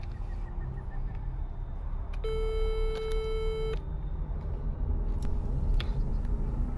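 A telephone ringing tone sounds while a number is being called: a single steady electronic tone lasting about a second and a half, heard over constant background hiss with no speech.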